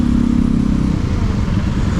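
A Honda CB150X motorcycle rides through city traffic on Roxas Boulevard, with a steady, loud engine drone and rumbling wind noise close to the mic and no clear talk.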